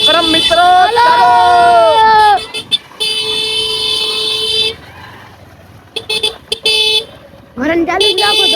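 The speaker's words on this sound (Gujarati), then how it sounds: "હોર્ન ચાલુ જ રાખો" Vehicle horns blare loudly in long, sustained blasts with brief breaks between them, over a background of voices and crowd babble.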